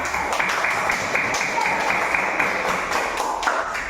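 A school class claps rhythmically at a steady pace throughout, dense and near, with young voices mixed in beneath the claps.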